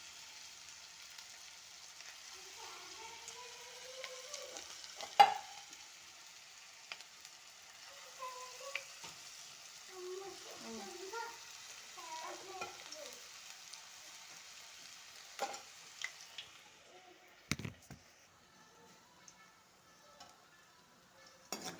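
Spoonfuls of batter drop into hot oil and fry like punugulu fritters, a faint continuous sizzle broken by scattered clicks and taps of a spoon, with soft voices murmuring at times.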